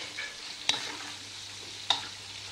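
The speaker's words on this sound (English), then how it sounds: "now I fry a few of these onion rings, just again to absorb the oil" Onion rings fry in oil for a Spanish dish, giving a steady, even sizzle throughout with two sharp pops or clicks standing out above it, and no one talking.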